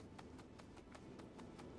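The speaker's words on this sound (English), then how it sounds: "I think it's my own footsteps I'm hearing." Footsteps of the player's own character in the video game Overgrowth: a steady run of soft, evenly spaced footfalls, about eight in under two seconds, faint over a continuous low background rumble.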